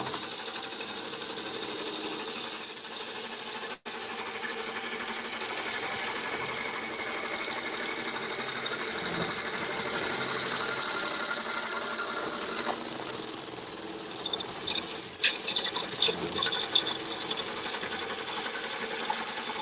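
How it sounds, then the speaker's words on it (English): A wood lathe turns a bowl during a peel cut at a live woodturning bowl-battle event, giving a steady close whirring hum with a brief dropout and a burst of scraping, chattering cutting noise near the end, with no talk. "So I'm doing a peel cut here now, and I'm just getting rid of unbalance on this surface."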